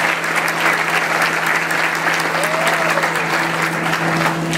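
Loud, sustained applause from a crowd at a civic event in Puebla, a thick continuous clatter of many hands with a steady hum running underneath.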